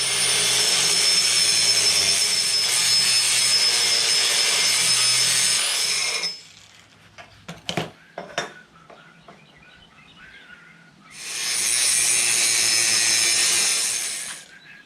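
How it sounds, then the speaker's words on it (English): Rough grinder shaping the steel roll bar of a beach buggy, a loud sustained high whine running for several seconds, stopping, then starting again, with clanks of metal in the pause between. "I will start with a rough grinder and work down to a die grinder."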